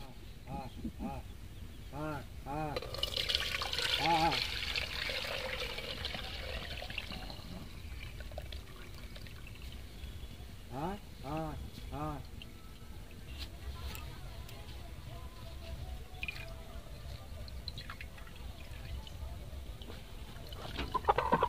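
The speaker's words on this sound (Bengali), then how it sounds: "একটা ছাঁকনি নিয়েছি, তো এতে করে আমি প্রথমে ছেঁকে নেব" Nut milk poured through a kitchen sieve while making milk-free curd, a brief splashing pour near the start, then soft trickling under steady talking.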